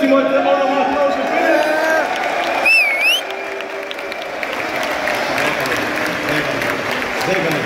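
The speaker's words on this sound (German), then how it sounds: "Der auch nochmal Applaus für" A crowd at a creator basketball event applauds for a stage host, broad clapping and cheering under a loud event atmosphere, with a brief whistle-like tone near the middle.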